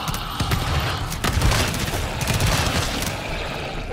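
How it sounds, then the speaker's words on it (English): Grenade explosion in a video game, a loud burst amid ongoing gunfire, followed by further crackling shots and rumble over a dense battle background. "Nice grenade."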